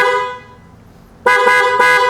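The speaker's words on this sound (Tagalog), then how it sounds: "Parang pang truck yung busina natin ito." A loud aftermarket horn on a Suzuki Burgman scooter, truck-like in tone, blares once and fades, then sounds again in a sustained blast with brief pulsing bursts, close and alone.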